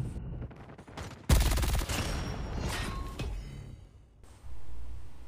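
An MG42 machine gun fires in a video game in one dense automatic burst, loud and close, running roughly half a second to several seconds into the clip and fading off before a steady background sound returns.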